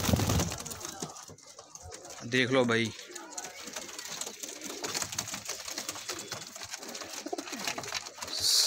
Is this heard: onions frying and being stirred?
no